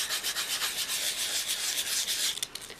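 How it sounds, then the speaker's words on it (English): A vintage Valentine Mama doll being sanded smooth, giving a steady, close scratchy rubbing that runs continuously with small rhythmic strokes and no talk. "you got to sand it smooth"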